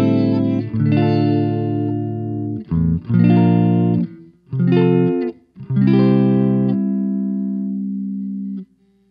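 Electric guitar through a Zoom G1 Four multi-effects pedal on its room reverb setting: sustained strummed chords in four separate phrases, each ringing out with a short roomy tail, loud and alone with no voice.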